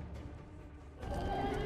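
A horse neighs in the video game Mortal Kombat X, a single whinny rising loud and close after a second of quieter game ambience.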